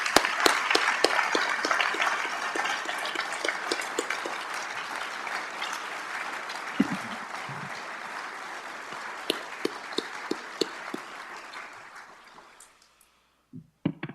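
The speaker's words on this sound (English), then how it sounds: "How about a round of applause?" Audience applause at a police promotions ceremony, a sustained crowd clapping that slowly thins out and fades to silence, with a few last claps at the end.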